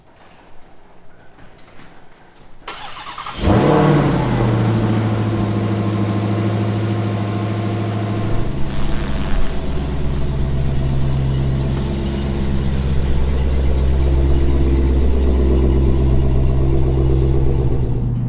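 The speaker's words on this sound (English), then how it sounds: "I'm out on a test drive and the car is as smooth as glass" A Dodge Demon 170 on street tires starts out on a test drive, its engine settling into a loud, steady, deep rumble that holds evenly with small surges as the car rolls along.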